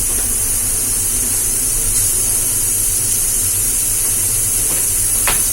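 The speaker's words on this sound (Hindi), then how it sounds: "तब तक मैं चना फ्राई कर लेती हूँ" Chana (chickpeas) sizzle steadily in a hot pan of oil in a home kitchen, a loud, continuous hiss and crackle with a brief sharper pop near the end.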